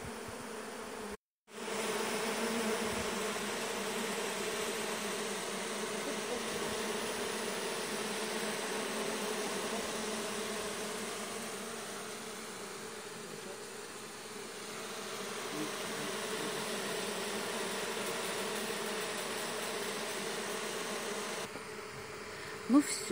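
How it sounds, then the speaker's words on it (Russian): A swarm of honeybees settling into a hive gives a steady, dense buzz that holds for over twenty seconds, cut by one short break near the start. "пчелки наши залезли в домик"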